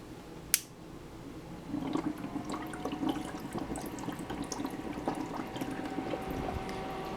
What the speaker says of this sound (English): I'm going to go ahead and turn it on now.